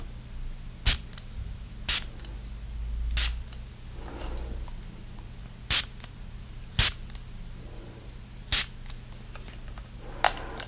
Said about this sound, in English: I'm going to spray some for you now